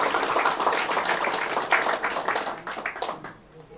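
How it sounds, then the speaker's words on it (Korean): Church congregation applauding member Kim Eun-hee during a Sunday service, a moderate wash of clapping that swells and then tapers off near the end. "우리 자매님, 김은희 자매님께 큰 박수 드리겠습니다"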